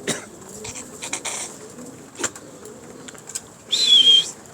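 Pigeons coo softly in a low, rolling murmur, with scattered clicks and rustles and a brief higher whistling chirp near the end, close by and without talk.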